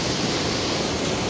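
A rushing mountain river in Alaska, a steady, dense roar of turbulent water running close and loud without a break, with no voices over it.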